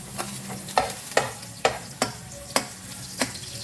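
Garlic frying in cooking oil for a Filipino string-bean adobo, a steady close sizzle broken by about seven sharp scraping strokes of a spatula against the pan.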